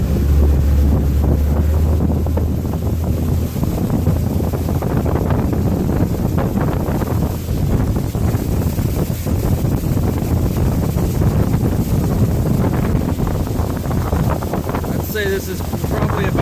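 A Mercury outboard motor that is running rough, pushing a boat at about 3,000 RPM in the rain. It drones steadily and loudly throughout with heavy wind buffeting on the microphone and water noise, and there is no clear speech.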